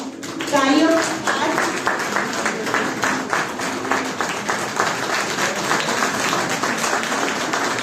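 Audience applause at a school principals' meeting of the MCD Central Zone, steady clapping from a crowd that runs for about eight seconds, with voices audible near the start.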